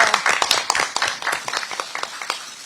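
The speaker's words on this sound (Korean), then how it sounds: "네, 다시 한번 더 큰 박수 부탁드리겠습니다." Audience applause at a Democratic Party rally in Busan, dense clapping from many hands at moderate loudness with no speech over it.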